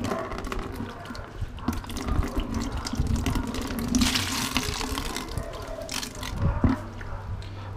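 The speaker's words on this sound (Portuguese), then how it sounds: "Vou passar essa água ali pro tanque, vocês vão ver melhor." Water pours from a container into a wash tank, draining liquid from a cleaned Peugeot 206 radiator coolant reservoir; a steady splashing, running flow close by with small gurgles and drips, no talking.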